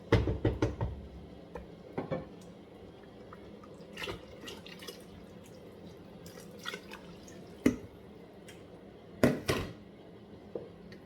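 Nigerian stew being stirred in a pot, soft scattered clinks and knocks of a spoon against the pot with gentle liquid sounds, quiet and irregular with no talking.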